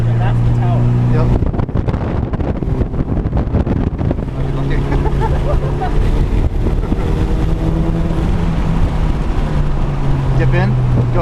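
A 2006 Mitsubishi Evo9 MR accelerates hard on track at Laguna Seca, its engine droning and rising in pitch from inside the car under wind noise, with people talking over it.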